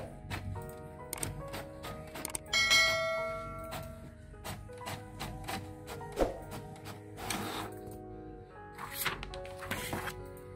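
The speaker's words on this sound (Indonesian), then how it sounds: "Printer akan mencetak." An HP GT5810 inkjet printer runs a print after a head cleaning, with repeated mechanical thunks, clicks and whirring carriage movements spread across the stretch, close and moderately loud, no talking.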